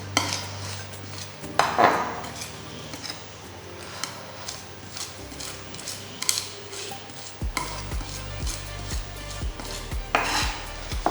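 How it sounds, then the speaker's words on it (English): A knife rocking back and forth through garlic and salt on a cutting board, making soft repeated taps and scrapes at close range, with a few louder knocks and no voices. "You're using the salt as like a grain to break up the garlic and begin to mince it."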